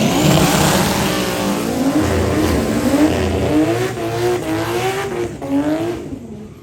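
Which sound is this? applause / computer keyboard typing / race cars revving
race cars revving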